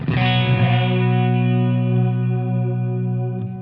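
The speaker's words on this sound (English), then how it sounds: "We've got warmth, which controls the tone of the reverb, how much high-end content is present." A Keeley Parallax Spatial Generator reverb pedal shapes a sustained guitar chord into a rich, shimmering wash that holds evenly and slowly fades, with its warmth control darkening the high end; no voices.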